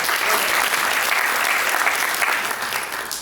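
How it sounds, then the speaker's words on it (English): A studio audience claps steadily in dense, sustained applause during a talk-show conversation on Black ownership and the creator economy, holding strong before tapering off slightly near the end. "y'all can clap for that."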